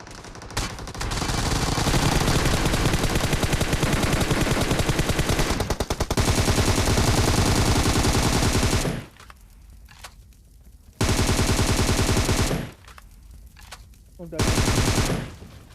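Sustained bursts of rapid automatic gunfire from the mobile game Battlegrounds Mobile India, loud and continuous, broken by a couple of brief pauses before firing resumes.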